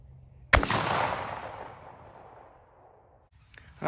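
A single loud blast from a 20 gauge shotgun firing a handloaded bismuth shell outdoors, a sharp report followed by a long rolling echo that fades over about three seconds.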